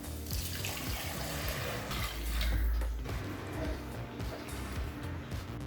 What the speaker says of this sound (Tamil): இப்போ இது கூடவே 2 கப் தண்ணி சேர்த்துக்கலாங்க